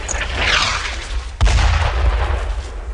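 Mortar fire in Brothers in Arms: Earned in Blood, a low rolling rumble with a sharp, heavy impact boom near the middle followed by sustained loud reverberating noise.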